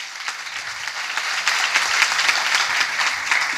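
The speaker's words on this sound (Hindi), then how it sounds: "पाक रूह के लिए जोरदार तालियां बजाएंगे।" Congregation applause at a church sermon gathering, sustained steady clapping from a crowd filling the room, moderately loud and continuous with no talk over it.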